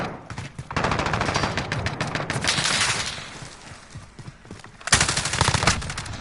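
Heavy automatic gunfire in the Modern Warfare video game, loud rapid bursts with a brief lull in the middle before another intense volley.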